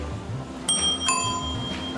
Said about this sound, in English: Don't forget the bell on the blind corner here.